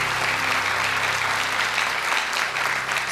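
Steady, dense applause from a studio audience at a televised Quran-memorisation quiz show, Hafiz Indonesia 2020, holding at an even level throughout with no talk over it.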